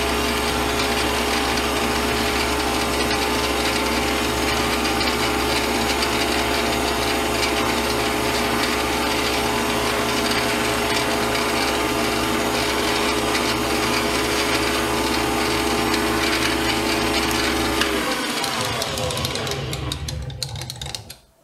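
A lathe facing cut on metal gives a loud, steady whine with a constant motor hum, then winds down abruptly near the end.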